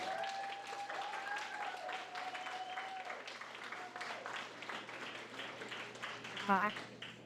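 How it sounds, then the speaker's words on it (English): Spectators at a California high school rodeo association championship applaud the rodeo queen contestants, a steady patter of clapping that runs throughout while voices and some cheering carry over it. "give the girls a big round of applause"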